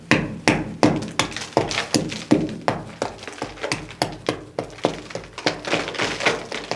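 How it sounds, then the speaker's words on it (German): Repeated hammer blows strike at a steady, brisk rhythm, sharp and close, each hit a hard metallic-wooden knock with no talking. "da mit dem Hammer gegenschlagen"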